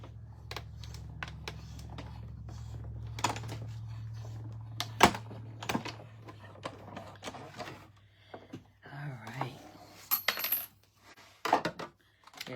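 A hand-cranked die-cutting machine feeds small stamping dies through, giving a low steady mechanical hum at first, then a close series of sharp clicks, clacks and rattles with brief quiet gaps between.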